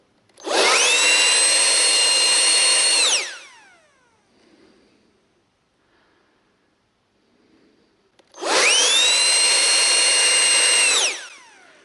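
Dnipro-M DVB-200 cordless leaf blower at third speed on a fully charged battery, two loud high-pitched whining blasts of about three seconds each that spin up and wind down, separated by a quiet gap.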